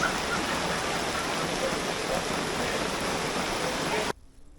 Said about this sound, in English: It started raining and now it is just insane big hailstones.